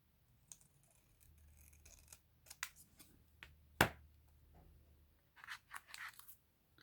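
Scissors snip through paper during a holiday crafting session, giving a handful of sharp cuts and crunchy rustles scattered over several seconds, close and fairly quiet, with one louder snap in the middle.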